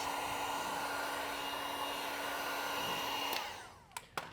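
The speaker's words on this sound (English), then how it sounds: "Use some heat over here, all around the edges." A heat gun blows a steady, loud broadband whoosh while warming vinyl wrap around the edges of a Tesla Model 3 Highland trunk, cutting off near the end followed by a couple of short clicks and bumps.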